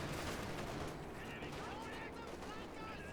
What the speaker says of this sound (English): Was that another miss from the pack gun?